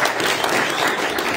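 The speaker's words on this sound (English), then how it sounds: "give a hand, clap, praise the Lord." A church congregation claps steadily for about a second and a half, a dense, sustained wash of hands with no break and no voices rising above it.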